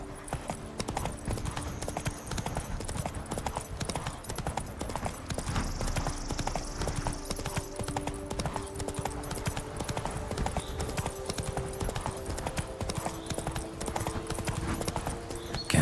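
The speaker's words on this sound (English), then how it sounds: "Roach, you're a good horse." Steady, rapid hoofbeats of a galloping horse in the video game The Witcher 3: Wild Hunt, a continuous rhythmic clip-clop running throughout at moderate volume with no pauses.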